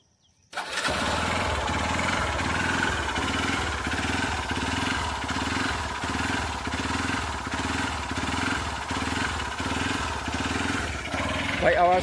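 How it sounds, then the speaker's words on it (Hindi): A Hero Xpulse 200 4V motorcycle engine starts with a self-starter, then runs close by with a steady pulsing throb. The rhythm wavers and jerks throughout. "ये इसकी आवाज़ है, इंजन की जर्किंग।"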